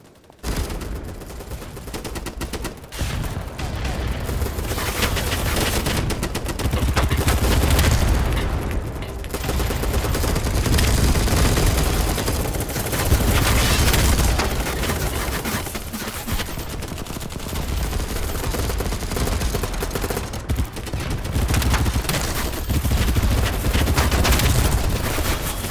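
Sustained automatic P90 gunfire in Battlebit Remastered, a dense near continuous rattle of rapid shots with brief gaps between bursts, loud and up close throughout.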